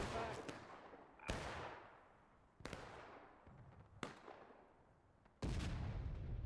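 Musket volleys in the Civil War video game War of Rights crack out in five sharp, separate reports spaced about a second apart, each trailing off into a long echo, the last one heavy and close.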